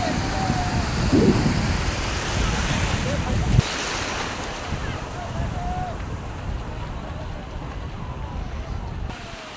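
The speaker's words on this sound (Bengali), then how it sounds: "পরপর ছোটো ঢেউ বড় ঢেউ আসতে থাকছে" Sea waves at Digha beach surge and break continuously around the listener in a steady broadband wash, with small and large waves rolling in one after another, wind buffeting the microphone and a brief louder burst early on.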